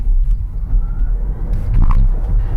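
A Smart #1 electric car accelerating hard in sport mode, with loud low rumble of road and tires rising slightly over a couple of seconds, some wheelspin.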